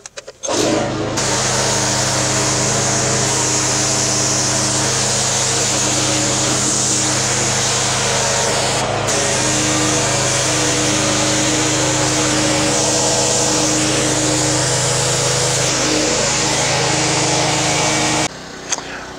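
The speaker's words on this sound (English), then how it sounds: "I'm going to go ahead and rinse off the foam" A pressure washer sprays water to rinse car wash foam off a vehicle, a loud, continuous hissing roar with a motor hum, running almost without a break from start to finish.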